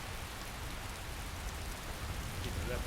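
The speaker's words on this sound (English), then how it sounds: "I would like it better here if it wasn't raining." Steady rain in the video game Skyrim, a constant even hiss of falling drops spread broadly with no pauses, faint overall with no voices.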